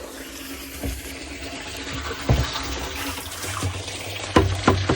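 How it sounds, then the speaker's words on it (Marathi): Water runs steadily into a sprayer tank from a motor pump under a low motor hum, with a few knocks and clunks along the way. "आता पाणी भराय चालू केलंय, दाखवतो तुम्हाला"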